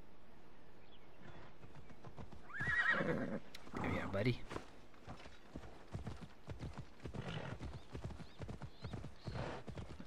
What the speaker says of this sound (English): Armored horse.